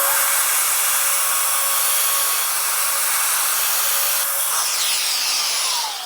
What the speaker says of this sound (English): I've set the depth of my router. I've got my dust extractor set up.